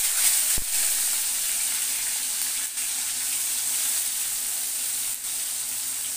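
Onion sizzles steadily as it fries in a wok, a loud, even crackling hiss throughout, with one sharp click near the start and a couple of faint stirring touches.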